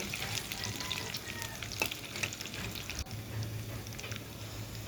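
A steady, close sizzle of chopped onion, garlic and whole dried red chillies frying in oil in a pan, with light crackles and an occasional stirring clack, continuing evenly with no voices.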